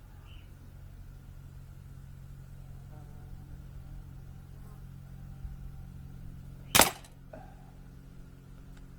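A Beeman P17 air pistol fires its last pellet with a single sharp, loud crack, standing out alone over a steady low background hum.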